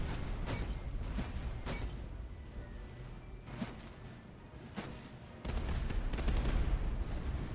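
Musket volleys fire in the Napoleonic-era strategy game Master of Command, with ragged bursts of gunfire crackling in repeated waves and the loudest, densest volley near the end.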